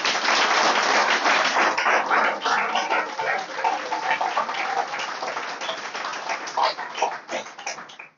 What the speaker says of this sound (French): je voudrais qu'on les acclame très fort